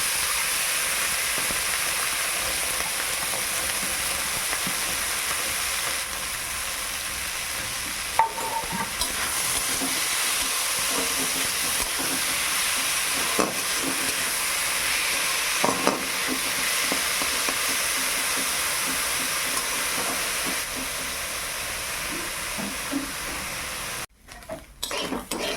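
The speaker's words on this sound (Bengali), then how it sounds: "তাহলে চিংড়ি মাছটা ভেজে নেই।" Small live shrimp fry in a wok with a steady, close sizzle and hiss, stirred now and then with light scrapes, and a few clatters of the pan toward the end.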